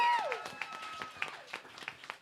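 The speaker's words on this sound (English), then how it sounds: "a huge round of applause, as always, to the bartenders, the staff," Scattered, fairly quiet clapping from a small crowd at the Roguelike bar, with bursts of individual claps and a whistle cutting through near the start.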